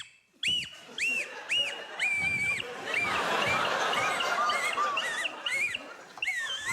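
Shrill nose flute whistling in short rising-and-falling swoops, several players blowing at once on a comedy panel show stage, with a burst of audience laughter and noise swelling in the middle.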